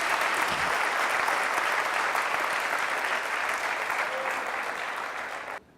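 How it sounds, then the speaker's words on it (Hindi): A church congregation applauds loudly and steadily for several seconds, the dense clapping holding an even level before it cuts off abruptly at the end. "हालेलुया, जोरदार तालियों से।"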